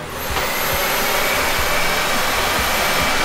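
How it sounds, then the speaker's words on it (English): A household vacuum cleaner runs continuously at close range, a loud steady whooshing roar with small bumps as it moves across the floor. "Vacuum the floor, plug it in."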